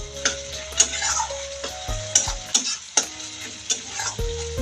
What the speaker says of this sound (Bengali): বন্ধুরা এখানে মাছের তেল ঝাল হচ্ছে, কিন্তু পেঁয়াজ ছাড়াই মাছের তেল ঝাল হচ্ছে এটা।